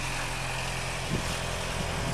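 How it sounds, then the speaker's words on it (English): A three-cylinder car engine runs steadily at a farm gathering, a continuous low rumble with a faint hum and no clear revving, heard fairly near and alone. "Sounds like a three-cylinder again."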